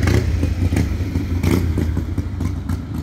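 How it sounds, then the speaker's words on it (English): A Harley-Davidson Sportster motorbike engine rumbles loudly nearby with a clattering, crackling texture, holding steady as it passes. "sorry about the motorbike going past."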